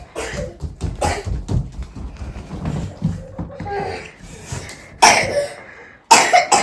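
A child coughs repeatedly in rough bursts, with two louder, harsher coughs near the end, close by with some background shuffling.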